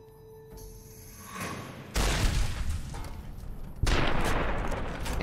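Gunfire in Fallout New Vegas: two sharp, loud shots roughly two seconds apart, each a sudden blast with a ringing tail, preceded by quieter in-game ambience.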